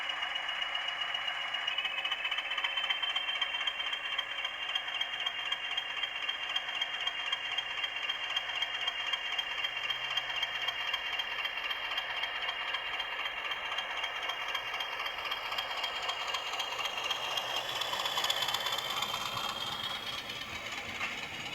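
A Bachmann Class 20 model locomotive from the Permanent Way train pack runs steadily along old model railway track, giving a continuous close rattling, whirring motor drone with a faint high whine, rising slightly near the end.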